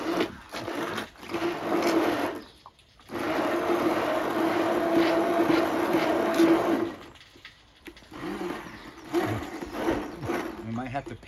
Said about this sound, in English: we're going to take our hand mixer and just blend everything together